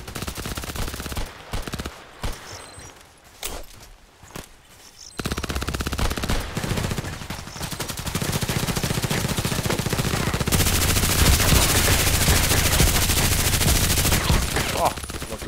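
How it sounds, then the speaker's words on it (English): Rapid, sustained automatic gunfire in the online shooter Contract Wars, with a choppy stretch of shots at first and then dense, continuous firing that grows louder and fills the rest of the clip. "Why is he shooting at me?"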